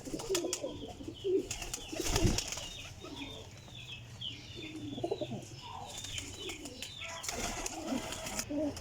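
Several young Teddy pigeons, including a golden Teddy hen, coo softly and repeatedly close by, with wing flaps and rustling breaking in a few times and no talking.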